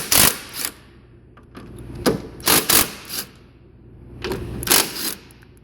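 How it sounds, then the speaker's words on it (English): Ratchet wrench loosening 14mm bolts on a Toyota Camry front strut during replacement with KYB struts, heard as several short, sharp clicking bursts separated by brief pauses. "First thing we're going to do is loosen these 14mm bolts."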